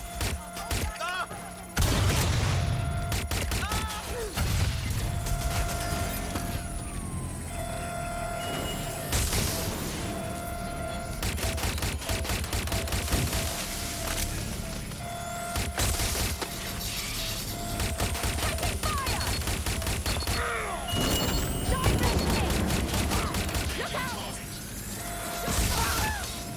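Sustained gunfire from the video game Watch Dogs Legion rattles through rapid bursts and single shots, mixed with mechanical clicks and impacts, loud and nearly continuous.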